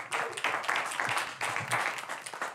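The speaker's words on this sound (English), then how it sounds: "Can we get a round of applause for Mindy joining us in the program?" Studio audience applause welcoming a guest onto a talk show, a lively burst of many hands clapping with uneven, rhythmic peaks, fairly close and continuous throughout.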